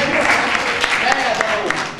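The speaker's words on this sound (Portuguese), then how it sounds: "Saúde e palmas pro Piadão." Audience applause and cheering for Piadão at a comedy sketch festival, loud and dense, with a voice over the clapping.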